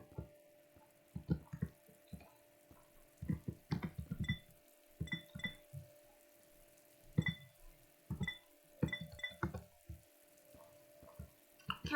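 Water drips in a video game, sounding as a scatter of small, faint, irregular ticks and plinks spread over several seconds in an otherwise quiet scene.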